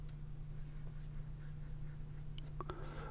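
Marker or pen strokes on a board while a motor winding diagram is sketched, a steady scratchy scribbling over a constant low electrical hum, ending with a few sharper taps.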